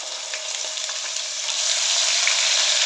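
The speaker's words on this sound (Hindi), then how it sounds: "लहसुन अदरक फ्राई हो चुका है।" Garlic and ginger paste frying in hot oil with whole spices for a masoor dal, producing a steady hissing sizzle that grows slightly louder near the end, close up with no talking.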